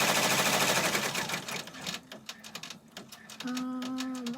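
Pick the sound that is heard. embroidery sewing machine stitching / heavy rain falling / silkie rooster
embroidery sewing machine stitching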